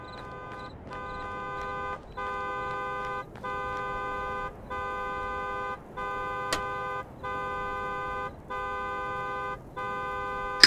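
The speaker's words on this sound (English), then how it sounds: "Listen to the car's alarms" A video-game car alarm blares in a steady pulsing pattern, with roughly eight evenly spaced bursts of loud electronic tone separated by brief gaps. Nothing else competes with it.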